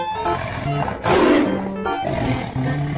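Tiger roaring: a deep, rough roar swelling loudly near the middle, framed by lighter tonal animal calls before and after.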